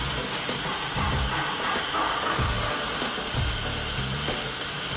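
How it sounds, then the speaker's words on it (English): A KEDROC 100 cylindrical CNC machine with powerful motors and specialized cutters mills log parts, crown logs and grooves, giving a loud, continuous rushing, hissing cut with rhythmic low thumps from the workpiece and no voices. "The KEDROC 100 cylindrical machine crafts log parts, crown logs, and grooves with precision."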